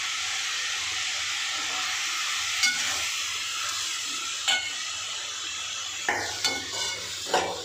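Garam masala and chilli powder are stirred into chapati pieces frying in a pan, giving a continuous close sizzle and hiss with a few scraping strokes of a spoon, no voices.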